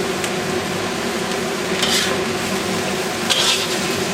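Chicken and broccoli florets stir-fried in a pan, a steady close sizzle with scraping and stirring, a couple of brighter clinks of utensil against metal, no talking.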